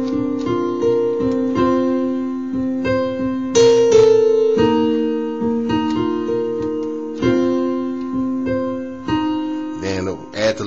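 A piano plays a chord sequence from a song. Sustained chords move at a slow, deliberate pace and are played close and clear, with a brief rougher burst near the end.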